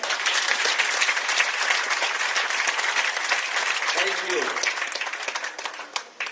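Audience applause for the Minister of Health at a hospital solar power plant launch, a dense steady crowd clapping that carries on loudly throughout and thins slightly near the end, with a brief spoken thanks over it.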